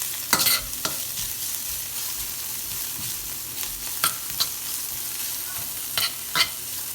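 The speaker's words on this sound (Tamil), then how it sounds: "வெங்காயத்தை வந்து கன நேரம் வதக்க விடாதீங்க வந்து." Onions sauté in a hot pan for a spicy Sri Lankan-style black chickpea sundal, giving a steady loud sizzle broken by several sharp scrapes and clanks of the stirring spoon.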